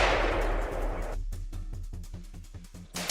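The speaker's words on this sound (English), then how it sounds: "Without hesitation, I opened fire in succession, hoping to kill as many wild boars as possible." Rapid succession of gunshots fired at a herd of wild boars during a hunt, about a dozen sharp, loud reports in a quick, fairly steady rhythm following a burst of broadband noise, with no talk.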